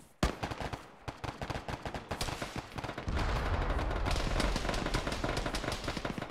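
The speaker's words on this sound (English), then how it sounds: "Gunfire coming from down the road," Dense, rapid video game gunfire crackles continuously, with sharp bursts and a heavier rumbling layer of shooting building toward the end.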